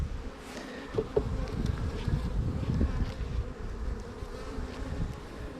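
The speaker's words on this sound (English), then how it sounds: "Obviously with the sheer number of bees, I'll say they haven't swarmed." A dense, steady buzz of many bees around an opened hive brood box fills the air, with a few louder individual bees passing close by and light wind noise.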